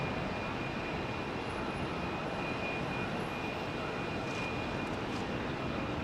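A jet airliner roars on runway 27R at London Heathrow Airport, a steady, loud broadband engine rumble with a sustained whine, continuous and unbroken.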